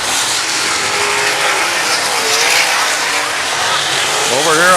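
Sprint cars race around Lakeside Speedway, a loud continuous engine roar with the pitch sweeping up as cars pass near, while an announcer calls the race over it.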